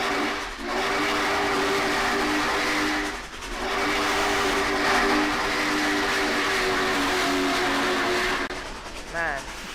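A K&L Trains payware locomotive in a train simulator game runs with a steady mechanical drone and tonal whine, dipping briefly twice, with a rising tone near the end.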